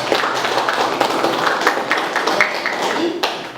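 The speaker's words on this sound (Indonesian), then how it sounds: "Kita berikan aplaus untuk kelompok 1." Students in a classroom applaud group 1, a steady patter of many hands clapping close by for a few seconds, with a faint hum underneath.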